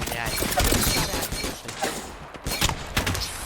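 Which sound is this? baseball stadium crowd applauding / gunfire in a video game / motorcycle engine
gunfire in a video game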